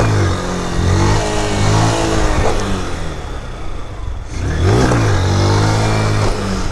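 A Honda CG Fan 160 motorcycle from 2023 revs repeatedly up and down close by, its mid-pitched engine rising and falling in several surges with no talk over it.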